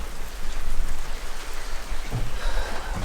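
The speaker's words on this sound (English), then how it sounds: "It starts to rain." Rain falls steadily on an outdoor terrace as a dense, even patter with scattered louder drops, with no voices.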